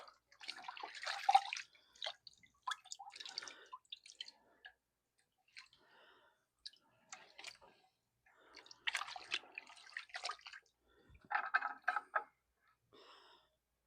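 A wooden rifle stock is washed off with a bucket of water, giving scattered splashes, drips and wet sloshing in short bursts with quiet pauses between, close but soft.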